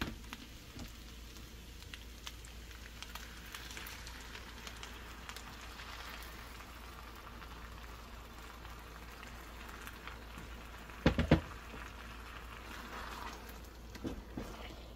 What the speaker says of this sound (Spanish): cuando fríe uno eh, así los ingredientes, el chile y todo, agarra otra textura